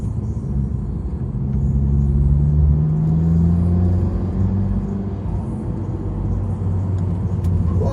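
Honda Civic Type R FK2 on Michelin Pilot Sport 4S tyres rounding a roundabout, a loud steady engine drone with rising tonal whine and road rumble from inside the cabin.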